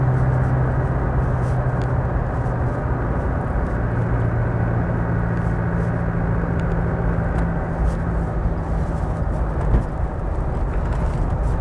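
Steady, loud diesel drone of a Land Rover Discovery 200Tdi with 163,000 miles, heard from inside while driving, a low engine hum running continuously under broad road and wind rumble with no talking.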